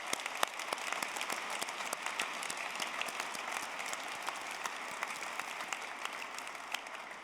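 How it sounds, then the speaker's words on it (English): Audience applause at a Liverpool John Moores University graduation ceremony, steady, moderately distant clapping from a large hall crowd that holds an even level throughout, with a few sharper individual claps standing out. "Please, can you join the graduates in applauding the friends and family"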